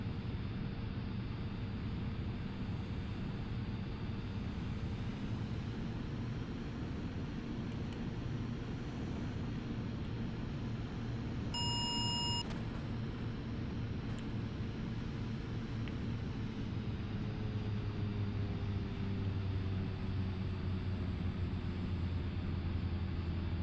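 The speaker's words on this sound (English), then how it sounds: "Speed drops so fast in this aircraft." A Daher Kodiak K100 turboprop lands in a flight simulator game, its engine drone steady and loud throughout with a slowly falling pitch, and a brief cockpit chime partway through.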